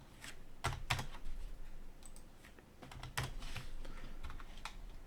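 Computer keyboard keys clack in short clusters of quick presses, close and fairly quiet, with a few separated clicks between the bursts.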